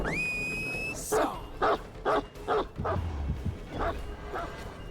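Dog in the Dead by Daylight horror game barking in a run of about eight sharp, loud yips and barks after a brief electronic tone, with some rumble underneath.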